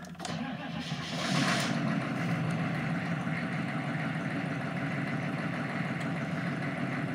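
A large bus diesel engine turns over and settles into a steady, rumbling idle close by, running continuously throughout.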